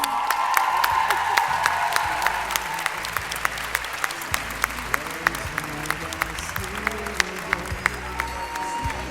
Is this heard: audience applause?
yes